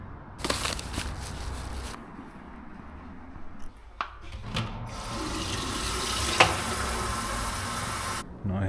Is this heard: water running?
yes